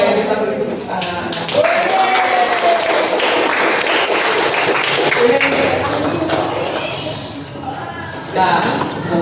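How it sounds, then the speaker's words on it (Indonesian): Applause from a classroom of students, a dense burst of many hands clapping close by that runs for several seconds, with shuffling and scattered voices mixed in before it fades. "Oke, kita beri tepuk tangan"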